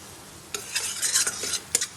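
Spices stirred in a cooking pan, with a run of close, bright scraping strokes of a spoon against the metal over a faint sizzle, ending in a sharp clink.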